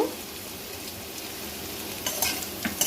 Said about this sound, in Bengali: আলু অনেকটাই ফ্রাই হয়ে গেছে, এবার দিয়ে দিচ্ছি পোস্ত